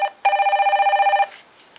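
An iPhone ringtone from the TextFree app plays once, a bright, steady electronic tone lasting about a second after a short blip, close and clear with no talking.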